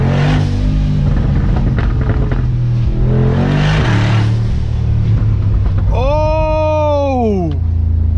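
A 2023 Brabus G900 revs hard while accelerating in first gear: a loud, dense engine roar that climbs and then swoops in pitch near the end, with excited shouting over it.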